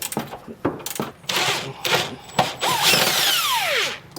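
A power tool with a 13/16 socket loosens and removes bolts while a Curt trailer hitch is fitted to a 2020 Dodge Durango, heard as loud close bursts of impact rattling, then a sustained whirring spin that winds down.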